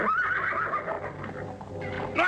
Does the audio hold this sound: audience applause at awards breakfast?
no